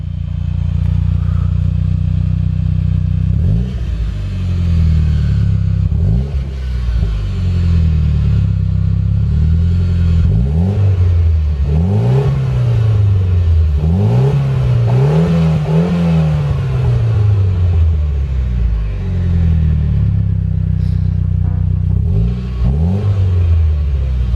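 A Mitsubishi Lancer Evolution X MR engine with an axle-back exhaust idles with a deep exhaust burble, then revs up repeatedly in rising and falling sweeps, loud and close, before settling back to idle.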